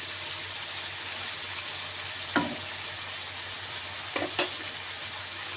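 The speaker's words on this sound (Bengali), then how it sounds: "আলু, পেঁয়াজ, টমেটো এটাকে ভাজবো।" Potatoes, onion and tomato fry in a pan with a steady, soft sizzle and occasional brief clinks of a utensil against the pan.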